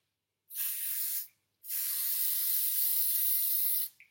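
Hair mousse sprayed from a can, two close hissing bursts: a short spray of under a second, a brief pause, then a longer steady hiss of about two seconds that cuts off cleanly.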